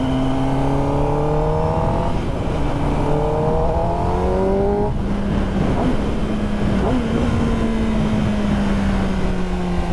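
A 2021 Kawasaki ZX10R sport bike pulls hard through the gears, its engine note climbing in rising sweeps with brief drops at each shift, loud and close over steady wind rush.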